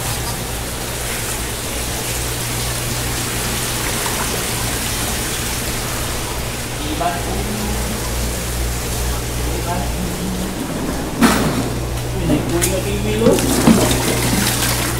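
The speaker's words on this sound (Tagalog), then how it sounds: "Lagyan natin ng tubig" Water poured into a guppy fish tank, a steady running splash throughout with a constant low hum beneath, and a few louder splashes near the end.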